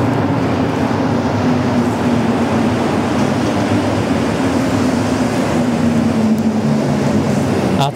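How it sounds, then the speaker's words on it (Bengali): A metro train pulling into an underground station in Montreal, a loud, steady rumble with a droning tone that shifts slightly as it draws near, filling the whole stretch with no talking. "আর অলরেডি মেট্রো সাউন্ড শোনা যাচ্ছে, তার মানে মেট্রোটা অলমোস্ট কাছাকাছি চলে আসছে"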